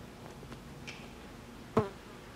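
A 1973 Triumph TR6's turn signal flasher unit gives a single sharp click, fairly close, over a faint steady hum, with no talking.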